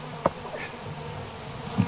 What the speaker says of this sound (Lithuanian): tik nemosikuokit, ne viena bitė jūs nekūs